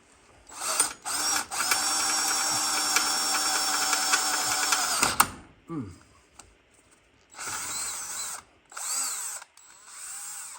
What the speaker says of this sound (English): So let's see if we can get this hole drilled here.